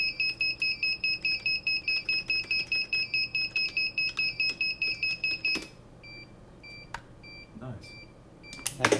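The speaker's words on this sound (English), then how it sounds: "I got something else beeping." An electronic alarm beeps while a DJI Digital FPV controller is being worked on. Rapid, evenly spaced high beeps repeat up close for several seconds, then stop, leaving a few scattered isolated beeps and small handling clatter.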